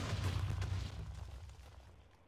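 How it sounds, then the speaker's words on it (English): Minecraft volcano erupting in a video game, a dense low rumbling burst that is loudest at the start and then slowly dies away over about two seconds. "the volcano basically blows up."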